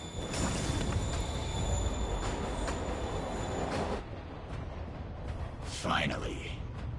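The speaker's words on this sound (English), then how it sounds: "Train's moving." A train moves in the Marvel's Spider-Man Remastered video game, a loud rumbling clatter with squealing wheels that drops away partway through, and a voice speaks near the end.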